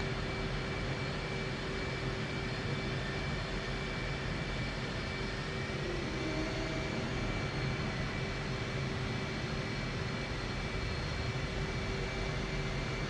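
An F/A-18C jet engine in the flight simulator DCS drones at a steady, even pitch with a faint high whine on top, continuous and unchanging throughout, with no voices.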